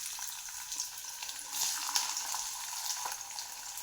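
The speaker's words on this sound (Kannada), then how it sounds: "ಈರುಳ್ಳಿ ಹಾಕ್ಕೊತಾ ಇದ್ದೀನಿ." Chopped onions dropped into about six tablespoons of heated oil for a fenugreek-leaf and tomato gojju, giving a steady close broadband sizzle with a few brighter crackles and faint utensil movement, no voices.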